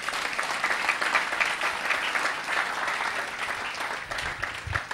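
A church congregation bursts into sustained applause, a dense, even wash of clapping that holds steady from start to finish with no voices standing out.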